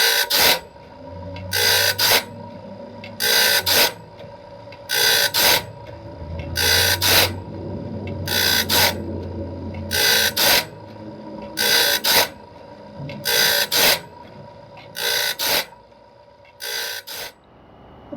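A Wood-Mizer BMS-25 sharpener grinds a bandsaw blade tooth by tooth, bursts of bright rasping grit at a steady, evenly spaced rhythm over a constant mechanical motor hum, close and loud with no talking.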